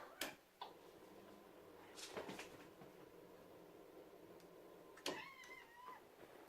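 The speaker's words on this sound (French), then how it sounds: "il y a un chat qui veut rentrer dans ma chambre" A cat meows outside a bedroom door, wanting to be let in. A few soft, drawn-out meows sound in a quiet indoor room, with light clicks and small thumps around them.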